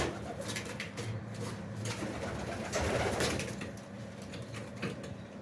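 Pigeons coo steadily at close range while being fed, a soft continuous murmur of calls with light shuffling and no talk.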